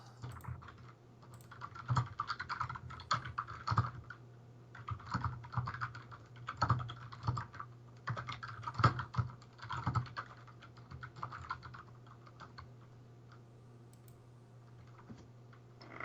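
Loud non-mechanical computer keyboard typed at close range in steady bursts of rapid clacking keystrokes, with brief pauses, under a low constant hum.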